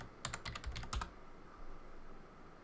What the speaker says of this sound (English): I'm going to type in Corsair.